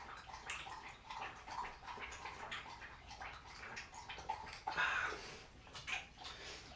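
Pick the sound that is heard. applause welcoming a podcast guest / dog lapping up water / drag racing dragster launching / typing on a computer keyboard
dog lapping up water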